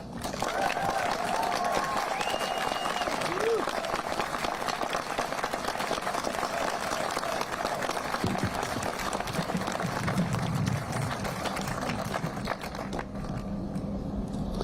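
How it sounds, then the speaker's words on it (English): Audience applause at the dedication of a memorial to five journalists killed in the Capital Gazette attack in Annapolis, a steady wash of clapping filling the space for the whole stretch, with faint voices and murmurs mixed underneath. "Let's give another round of applause."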